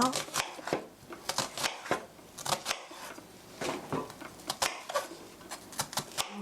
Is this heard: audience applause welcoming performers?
no